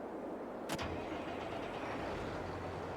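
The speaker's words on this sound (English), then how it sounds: "Lovely little tractor this is." A small tractor engine starts in Farming Simulator with a sharp crank click, then settles into a steady, low, mid-pitched idle rumble that holds evenly throughout.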